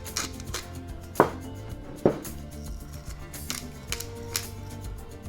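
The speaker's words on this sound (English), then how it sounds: "Give it a good mix together." A spoon or fork knocks and scrapes in a bowl while courgette fritter batter with vegetables and beaten eggs is mixed, giving a few sharp clicks over soft stirring, close and fairly quiet.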